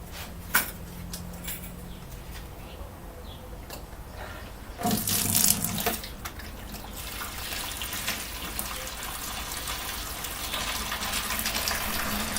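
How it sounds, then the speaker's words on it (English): Excess water is dumped out of a home-brewing vessel on brew day, a steady splashing pour with a brief louder gush partway through, running on alone without talk. "I'm just dumping some water out of here because I've got way too much."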